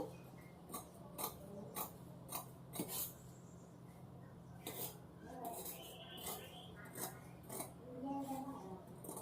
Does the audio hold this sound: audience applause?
no